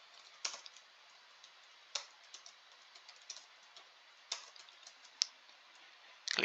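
Light keystrokes on a computer keyboard, quiet and close, in sparse irregular clicks with short pauses between them and a few louder taps.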